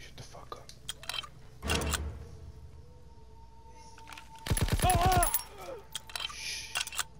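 Gunfire in the World War II shooter Call of Duty WWII during a train mission, two short bursts of rapid shots, the second longer and louder, between quiet stretches with faint speech and background game sounds.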